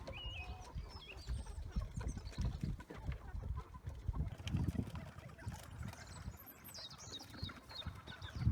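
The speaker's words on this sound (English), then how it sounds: "Chickens can come out." Chickens let out of a chicken tractor cluck and chatter faintly over rustling and low rumbling outdoor noise, with scattered bird calls throughout.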